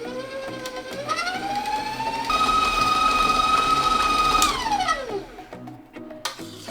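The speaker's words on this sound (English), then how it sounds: "I'm gonna add my white sugar in, and I'm gonna blend this for another 3 minutes" An electric mixer blends butter and white sugar, its motor whine steady and fairly loud, rising in pitch as it speeds up, holding a sustained tone and then winding down near the end.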